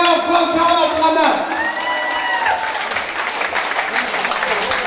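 A club audience at a concert in Moscow applauds, a dense patter of clapping with some cheering that carries on under a voice speaking over it.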